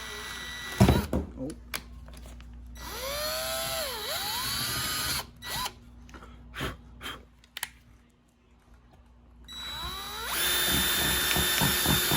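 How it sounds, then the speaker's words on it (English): A power drill whirs in several bursts, drilling holes to mount a Rocket Bunny front bumper on a Nissan 350Z, spinning up and winding down between pauses, with people talking nearby and a long final run. "we got 4 holes drilled in"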